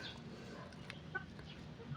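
A gamefowl hen of battle cross bloodline clucks softly and briefly against a steady background of farmyard noise, with no voices present.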